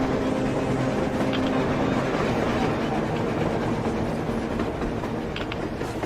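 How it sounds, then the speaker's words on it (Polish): A train runs on the surface in the video game Metro Exodus, giving a steady, loud rumble and rolling wagon noise that carries through the whole stretch with faint clicking on top and no voices. "A train! A damn train on the surface!"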